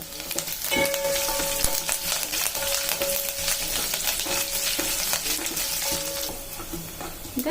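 Spices fry and get stirred in a hot pan for Andhra-style dal rasam, a steady dense sizzle with repeated scraping stirs running throughout, close and loud, no talking.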